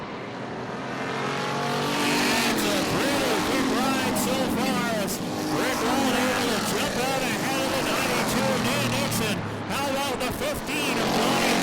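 Thunder Cars race around Barrie Speedway on opening night, engines roaring loudly and continuously as they sweep past, with an announcer talking over the racing.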